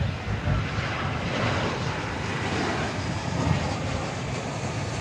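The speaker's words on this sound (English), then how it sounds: "Here comes a flight from Eugene, Oregon." A passenger airliner on approach at a large airport, arriving on a flight from Eugene, Oregon, gives a steady, fairly loud broadband engine roar that holds throughout with slight swells, with no talk over it.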